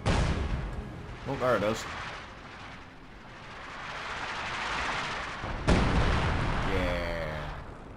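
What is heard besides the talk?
artillery firing in the video game Company of Heroes 2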